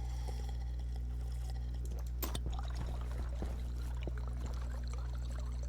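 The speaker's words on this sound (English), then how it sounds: "Have our drink of water." Water pours and trickles in the Stationeers game as a character drinks, a soft splashing over a steady low hum from the surroundings, with a few small clinks near the middle.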